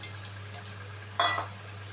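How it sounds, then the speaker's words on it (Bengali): Sliced onions drop into hot oil for a handi chicken, giving a soft sizzle with brief crackling spurts over a steady low hum, quiet and close. "এবারে আমি যে আগে থেকে স্লাইস করে পেঁয়াজ কেটে রেখেছিলাম, সেই পেঁয়াজগুলো তেলের মধ্যে আমি দিয়ে দিচ্ছি"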